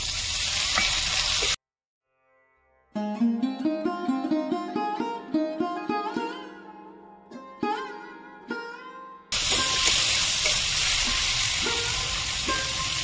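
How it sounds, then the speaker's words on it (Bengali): Onions sizzle and crackle in a pan with chopped tomato for prawn malai curry, loud and steady at the start and end, broken in the middle by a short stretch of melodic musical notes. "পেঁয়াজ আমি ভালো করে ভেজে নিয়েছি। টমেটো কুচি দিয়ে দেবো।"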